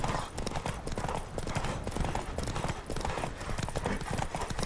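Hooves pound in a fast, steady gallop in The Witcher 3 video game, loud and close, with a brief whinny mixed into the rapid clip-clop rhythm.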